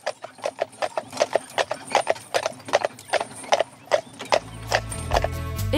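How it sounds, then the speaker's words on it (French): Percheron draft horses pulling a carriage through a village, hooves clip-clopping in a steady trotting rhythm, close and crisp, with a low rumble of wheels or an engine rising toward the end. "Mathias organise également des promenades en calèche dans le village."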